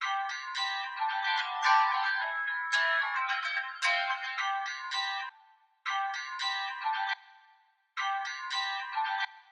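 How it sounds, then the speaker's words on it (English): Harsh, piercing midrange tones in short bursts, thin and shrill with no low end, cutting out briefly twice before returning. "These are the problematic frequencies in isolation."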